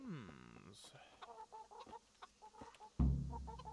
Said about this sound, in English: now feed the chickens